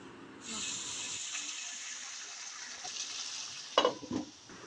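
Spiced goat meat fries and is stirred in a pan, giving a steady moderate sizzle with a few louder scraping, stirring bumps near the end.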